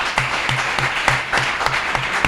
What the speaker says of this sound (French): On peut encore donner l'acclamation pour le Seigneur.